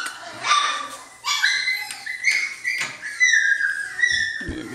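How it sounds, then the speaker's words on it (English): Norwegian Elkhound puppies and adult dogs whimpering, yipping and barking in a kennel pen, with overlapping high whines and short barks close by throughout. "Silver Nova, we're going to come look at your pups"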